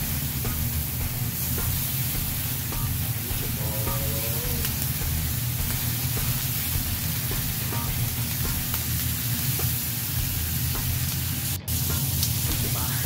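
Bacon frying in a pan gives a steady, dense sizzle with fine crackles and spits that runs without a break for over ten seconds, with no talking over it.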